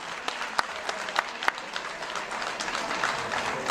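Warm applause from a town gathering at a mayor's presentation of local festivities, many people clapping together with a few sharp, close claps standing out early before the sound settles into an even patter.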